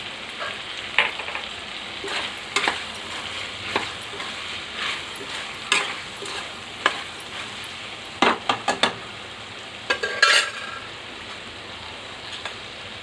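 Mutton curry with chopped mint cooks in a pot, a continuous sizzle punctuated by repeated clinks and scrapes of a spoon stirring against the bottom, some in quick clusters.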